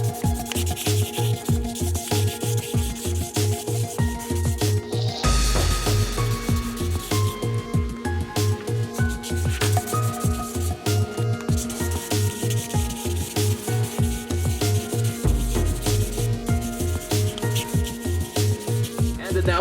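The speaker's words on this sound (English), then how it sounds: "Now we can move on to number 4 sandpaper." Number 4 sandpaper rubs back and forth over a Jurassic World amber velociraptor toy, a close, rhythmic scratchy sanding with quick regular strokes and brief pauses.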